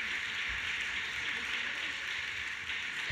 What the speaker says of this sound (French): Vous avez raison, il faut applaudir.